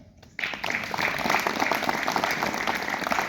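Audience applause at a B.Ed. college annual cultural function, a dense, steady wash of many hands clapping that starts abruptly after a brief quiet moment and keeps up at full strength.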